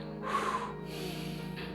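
A voice imitates apneustic breathing: one deep, audible inhalation through the nose and mouth, then the breath is held, leaving only faint residual sound close to the microphone.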